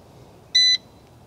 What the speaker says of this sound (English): That beep was the sound of the air fryer.